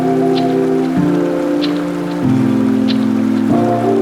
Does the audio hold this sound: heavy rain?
yes